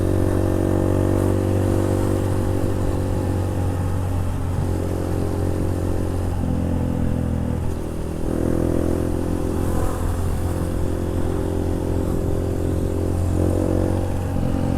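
Classic Vespa scooters ride past on a road near Ciawi toward Jakarta, a steady loud two-stroke engine drone with several passing swells and revving surges over constant road rumble, no talk.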